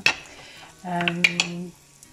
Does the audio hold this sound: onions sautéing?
yes